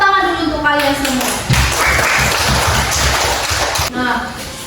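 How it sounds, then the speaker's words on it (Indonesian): Schoolchildren in a classroom clap together for a few seconds, a brisk burst of hand claps that follows a spoken voice and is followed by talking again. "Sekarang tepuk tangan dulu untuk kalian semua"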